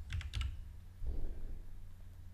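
Quick bursts of typing on a computer keyboard, a cluster of close key clicks at the start and another short run about a second later, with quiet room noise between.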